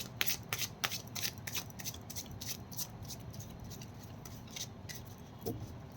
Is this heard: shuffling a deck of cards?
yes